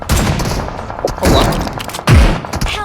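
Gunfire in the mobile battle royale game PUBG Mobile: loud rapid bursts of shots with heavy thumping impacts, close and continuous, ending in a sharp booming blast.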